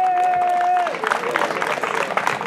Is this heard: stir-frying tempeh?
no